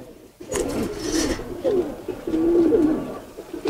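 Several Giribaz pigeons coo in low, throaty bursts, overlapping and repeating at close range, with some rustling and fluttering in between.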